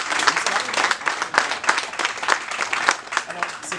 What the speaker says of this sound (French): il faut les applaudir encore